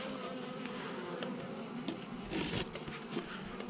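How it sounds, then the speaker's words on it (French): A dense swarm of bees hums steadily around a lakeside beehive at the end of the season, a continuous close buzz with individual insects flitting past the microphone. "attention les abeilles."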